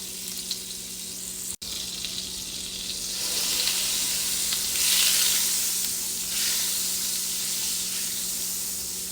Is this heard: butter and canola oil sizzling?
yes